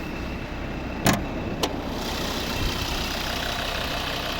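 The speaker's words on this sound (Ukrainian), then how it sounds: "Двигун, 2 літра дизель, дуже рівно і тихо працює." The 2.0-litre D3 diesel engine of a 2011 Volvo V60 idles with a steady, even, quiet rumble, broken by a couple of brief clicks early on.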